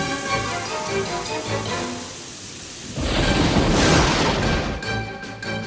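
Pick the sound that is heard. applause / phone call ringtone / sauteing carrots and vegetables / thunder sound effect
thunder sound effect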